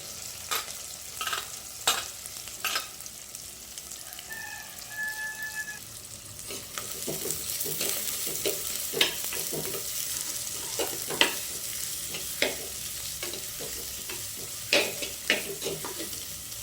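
Green chilies and onions sizzle and fry in a clay pot while a spoon stirs them, bringing steady frying hiss with sharp scraping clicks and taps against the pot throughout.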